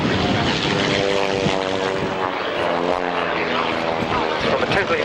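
Vintage Stampe biplane flying in toward the crowd at the RAF Waddington airshow in 1993, a loud continuous propeller engine drone with a steady pitch and rough texture, with an announcer talking over it.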